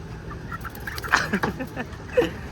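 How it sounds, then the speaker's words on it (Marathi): Live chickens at a chicken shop make scattered short clucks and squawks, fairly close, with brief louder bursts over a busy background murmur. "दोन किलो बघा कशा फ्रेश फ्रेश कोंबड्या आहेत"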